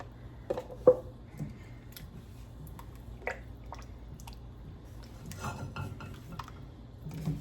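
A spoon stirs half and half and roux in a pot for clam chowder, with soft scrapes and occasional light clinks against the metal, quiet and close.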